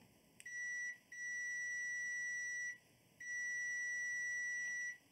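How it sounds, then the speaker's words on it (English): Multimeter continuity beeps during a check of rewired 12-volt power connections: three long, steady high-pitched tones, each lasting about a second or two with short gaps between them, clear and close over a quiet background. "we can just do a quick continuity test here"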